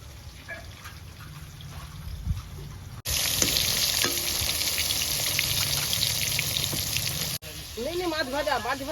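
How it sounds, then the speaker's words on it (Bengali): Salted rohu fish pieces frying in oil give a loud, steady hiss and crackle in the middle stretch. Quieter kitchen sounds come before and after it, and a voice with a melodic, singing quality briefly overlaps near the end. "মাছ ভাজা"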